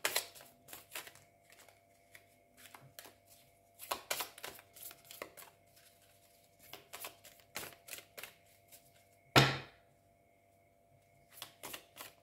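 Tarot cards being shuffled by hand, a run of quick papery riffles and soft taps in irregular bursts, with one louder thump partway through, close and otherwise quiet.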